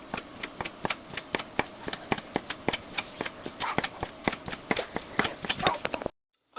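Andouille sausage is chopped into small pieces on a board for New Orleans red beans and rice: a steady run of about twenty sharp, close knife taps in quick rhythm, with no talking, ending abruptly.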